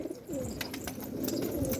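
Feather-footed pigeons coo in repeated soft, low phrases close by, with a few brief higher chirps over a steady background.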